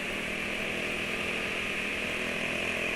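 A Honda Vario motorcycle with a modified, hollowed-out exhaust runs alongside, its engine giving a steady, fairly loud droning buzz with a whiny tone that holds without a break.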